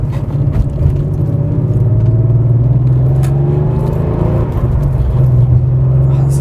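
Porsche 911 Carrera 2 (964) flat-six engine droning steadily while driving, a loud continuous low rumble with a sustained hum that rises gently in pitch, no talking over it.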